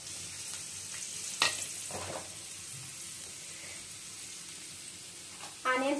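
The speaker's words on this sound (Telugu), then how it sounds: "ఇలా ఆయిల్ అయితే వేసాను, దీంతో ఆనియన్స్ అయితే వేసుకొని" Onions hitting hot oil in a pan for a dried-fish curry give a soft, steady sizzle with a few clatters and a louder burst of crackling near the end.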